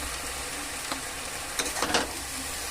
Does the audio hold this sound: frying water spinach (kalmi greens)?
yes